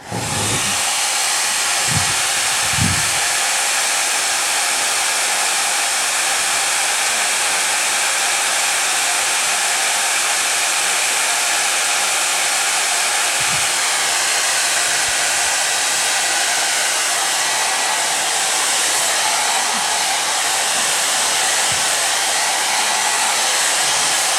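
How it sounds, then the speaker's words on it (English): A hair dryer blows with a loud, steady, airy roar throughout while drying a painting, with a few faint knocks near the start. "Can we hit that with a hairdryer?"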